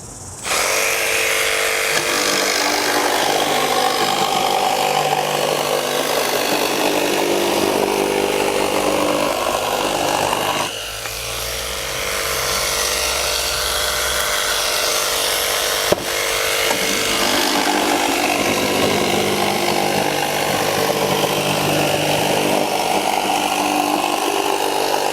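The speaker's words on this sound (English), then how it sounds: "cutting through this 10mm chipboard here" Milwaukee M12 Fuel cordless jigsaw cutting 10mm chipboard, a loud continuous buzzing rasp of the reciprocating blade held for the whole stretch, with a brief dip in tone midway and no talking.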